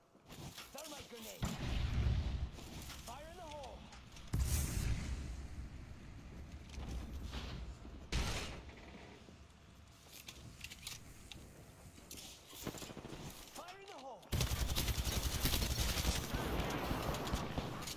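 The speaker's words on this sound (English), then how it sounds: "Thermite grenade." A thermite grenade going off amid bursts of gunfire in a shooter video game, with heavy blasts and rattling shots coming in waves, mixed with people talking over voice chat.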